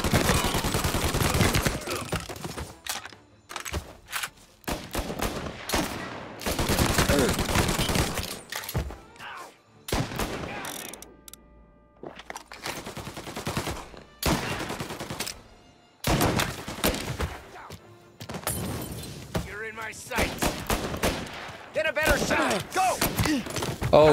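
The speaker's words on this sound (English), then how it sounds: "Gunshots rolling in." Gunfire in the video game Mafia Definitive Edition, with repeated bursts of shots and rapid machine-gun volleys in dense clusters separated by short pauses, loud and close throughout.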